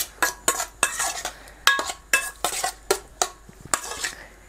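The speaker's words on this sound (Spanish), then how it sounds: "con una cuchara vamos a mezclar todos los sabores" A spoon scrapes and clinks against a bowl while mixing shrimp with olive oil, a quick irregular series of sharp metallic taps and scrapes, close and alone.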